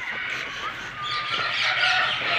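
Parrots at a large bird breeding farm give a continuous, dense chorus of high chirps and squawks. The calls overlap, sound fairly close and stay steady in loudness with no talk over them.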